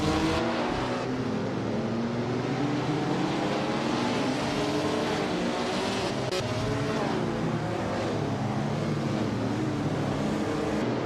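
Racing engines from a 1956 Maserati 450s and rival cars in a racing video game drone and whine continuously, with layered overlapping engine tones that rise and shift in pitch at a steady, loud level.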